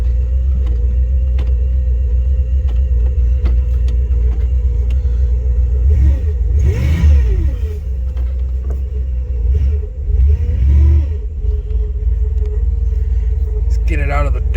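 A Cadillac DeVille, started after seven months parked, runs with a steady low engine rumble and idle, then revs up twice in rising and falling sweeps before settling back to idle.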